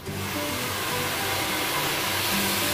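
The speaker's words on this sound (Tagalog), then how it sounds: "ngayon, i-blower na natin itong rebond ni Madam" A hair dryer runs steadily and loudly, blow-drying rebonded, colored kinky hair in a salon, giving a continuous close whoosh with no talking.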